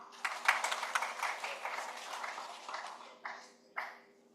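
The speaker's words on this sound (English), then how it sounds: "Ladies and gentlemen, an applause for them." An audience at an ECOWAS conference gives a short round of applause for Covenant University, a burst of clapping that fades over a few seconds, followed by two brief scattered spurts of claps.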